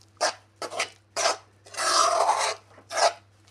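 A sesame barfi mixture with sugar syrup being stirred in a pan, heard as several short, close scraping strokes and one longer rasping stir, separated by brief pauses.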